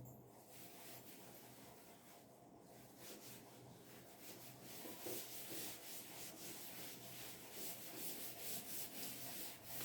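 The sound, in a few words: rubbing out writing on the board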